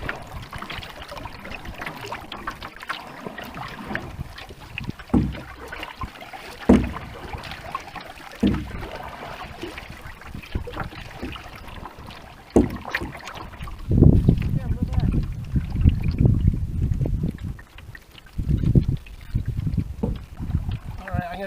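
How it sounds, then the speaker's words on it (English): Canoe paddle strokes swish and splash on water outdoors, a soft steady rhythm with a few sharper dips and a heavier stretch of churning near the end, with light wind noise on the mic and no talking. "I'm going to turn the canoe."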